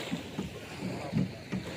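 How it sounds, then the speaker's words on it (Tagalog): A boat moving through water, with rhythmic low splashes and wash recurring every half second or so against a windy outdoor background. "Yung bangka ng Tiyo Tutoy."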